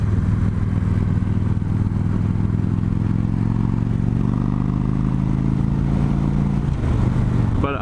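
Engine of a 2015 Victory Gunner cruiser motorcycle, a steady deep idle with loud low rumble throughout, holding even and close before a slight rise near the end.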